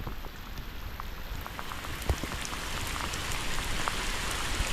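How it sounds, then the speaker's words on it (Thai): Heavy rain pours down steadily, a dense hiss of drops drumming on a surface with occasional sharper splashes, no voices. "ฝนดันมาตกใส่"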